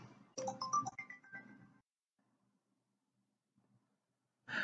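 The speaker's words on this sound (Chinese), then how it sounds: "刚接了个电话啊" A phone ringtone sounds during an ear endoscopy procedure: a bright, melodic run of tones rings out clearly, falls silent, then starts again at the end in an otherwise quiet room.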